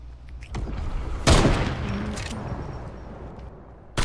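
Video game gunfire bursts loudly at one point, followed by a smaller, sporadic crackle of shots against a busy background.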